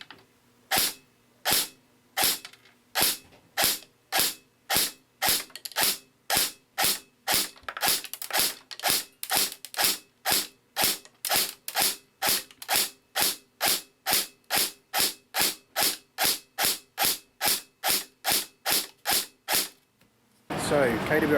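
A KWA Kaiju airsoft rifle, a limited edition 47-style rifle loaded with 0.3 gram BBs, fires a long steady string of about forty sharp single shots during a chrono test, evenly spaced, loud and close, with no talk.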